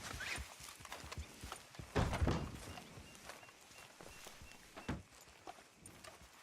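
Horse hooves clip-clopping at a walking pace in the game Red Dead Redemption 2, with a few louder thumps among the steady steps.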